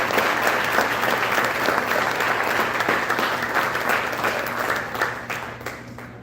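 Audience applause for the staff at a sports awards banquet, a broad wash of many hands clapping steadily up close, tapering gradually toward the end.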